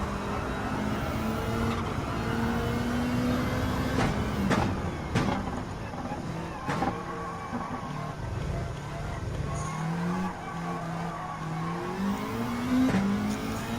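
A race car accelerates in Gran Turismo 7, its engine note climbing and shifting through gears over a steady game soundscape, with brief clicks and knocks along the way.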